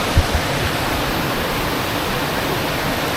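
Waterfall in Thailand pours in a constant, dense roar of rushing water, close and loud, with no voices heard.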